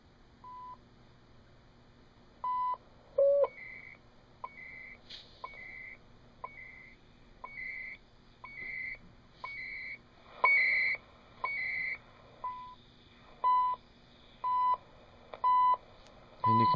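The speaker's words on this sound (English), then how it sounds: "So this is a time signal, CHU." CHU shortwave time signal received on a surplus receiver with a Q multiplier: a steady series of short beeps ticking about once per second, then longer tone pulses near the end, over faint background hiss.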